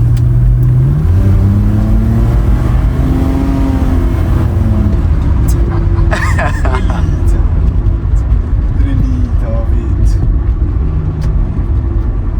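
Nissan Skyline R31 3.0 SGLI engine idling and revving, a steady mid-pitched drone that rises and swells in a few slow pulls, heard close inside the car with continuous road-like rumble and some talk over it.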